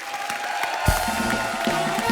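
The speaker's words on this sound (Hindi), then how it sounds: "एक बार जोरदार तालियां हमारे मेहमानों के लिए आई है भैया।" A studio audience on a Hindi comedy talk show breaks into applause and cheers for the guests, a full crowd clapping and whooping, while music and a voice run underneath.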